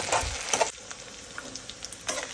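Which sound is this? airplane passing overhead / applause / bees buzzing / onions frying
onions frying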